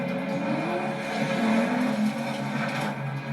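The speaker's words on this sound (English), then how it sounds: "The driver swerves in front of Bond, who drifts around the Land Rover and leads the chase into a working quarry." Aston Martin DBS in a car chase, drifting around a police Land Rover on the way into a working quarry: steady loud engine roar with faint tyre scrub, continuous and close throughout.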